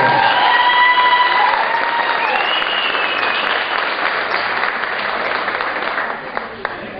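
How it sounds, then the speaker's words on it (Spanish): An audience at an evening show by Los Cuyes gives a loud, sustained round of applause with scattered cheers and whistles, fading toward the end. "que el primer aplauso de la noche pues sea para ustedes"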